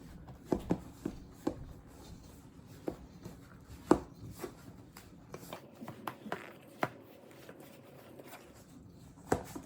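A pastry cutter or fork works butter into flour for flaky buttermilk biscuits, giving scattered soft clicks and scrapes at close range, quiet and irregular, with no talking.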